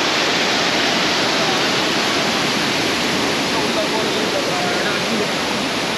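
Thommankuthu waterfall in Thodupuzha, Kerala, roaring as a dense, steady broadband rush of falling water that fills the whole clip at close range, with no breaks.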